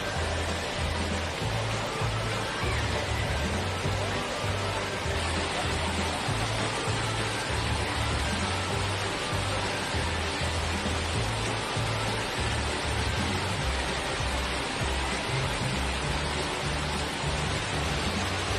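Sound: Erawan waterfall second tier, Kanchanaburi

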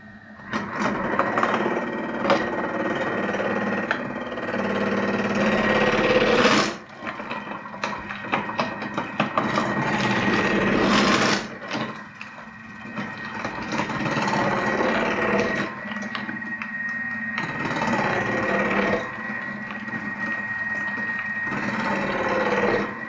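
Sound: Thermomix with cutter attachment grating carrots on thick mode

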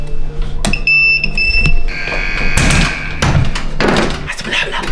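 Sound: fire alarm ringing

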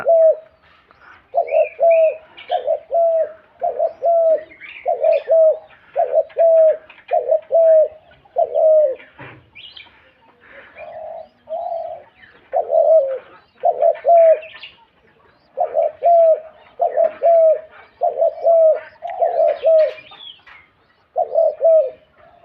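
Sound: pet pigeons cooing at home

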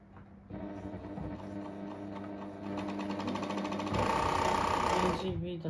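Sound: Pfaff 1229 sewing machine running fast after oiling

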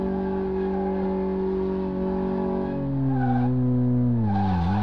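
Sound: car tires skidding in a drift test, Car Mechanic Simulator 2018 video game

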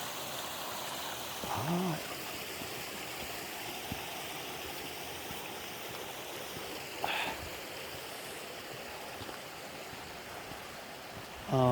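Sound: waterfall and stream water flowing

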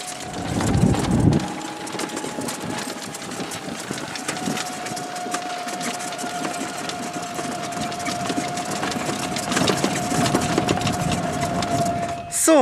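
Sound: golf cart driving on golf course

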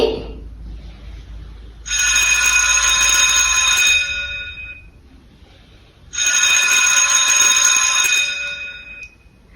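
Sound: bell ringing twice

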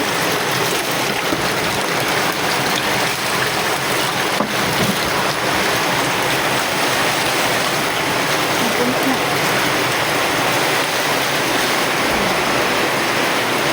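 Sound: rainwater pouring down like a waterfall

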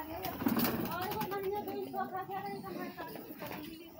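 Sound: pet pigeons

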